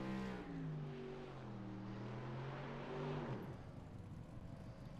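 V8 Supercar engine in a sim racing game at Long Beach revving hard, two rising sweeps of engine pitch over about three seconds before cutting off, loud and close.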